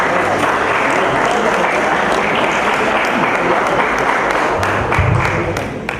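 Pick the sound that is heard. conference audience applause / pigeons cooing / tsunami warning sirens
conference audience applause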